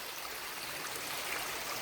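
Small stream fed by a waterfall flowing steadily beside a rural property, a continuous soft rushing and gurgling wash of water, even and close, with no voices.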